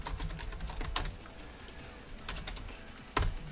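Quick bursts of close computer keyboard typing as a file name is entered, a soft rapid clatter of keys ending in one firmer keystroke.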